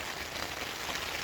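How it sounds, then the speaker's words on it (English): Rain patters steadily on a tent during a wet hike, a dense close hiss of countless drops drumming on the fabric, with no voices. "I do like the rain on the tent."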